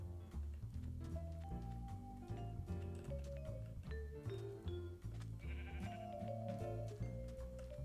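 Several Minecraft sheep bleat repeatedly in a video game, overlapping calls layered over a busy bed of game music and effects, fairly faint overall.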